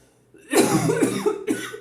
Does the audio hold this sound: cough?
yes